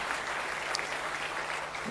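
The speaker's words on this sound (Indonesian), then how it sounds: "Tepuk tangan yang lebih baik bagi Allah kita." A church congregation at a worship service keeps up a full, continuous round of applause from many hands, with no speech in between.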